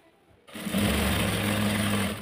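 A sewing machine starts up and runs steadily at a brisk pace, hemming the folded edge of a store-bought nightie, its close, even motor whir continuing alone after a quiet moment.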